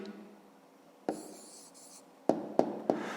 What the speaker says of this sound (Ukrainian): Записуємо тоді відповідь, скільки людей було в тролейбусі, пишемо відповідь.